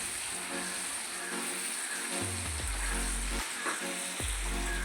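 Gongura chutney tempering in a hot pan, a steady loud sizzle and crackle of frying throughout, with a few soft stirring knocks near the end.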